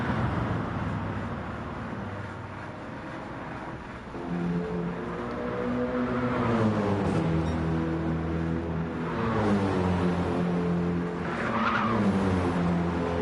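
A race car in Gran Turismo 7 pushing hard at Circuit de Sainte Croix and skidding into the barriers, with engine notes rising and falling through gear changes and tyre scrub, fairly close and continuous.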